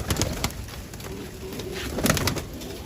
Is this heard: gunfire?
no